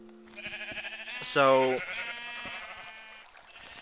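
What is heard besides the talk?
sheep bleating in the video game Minecraft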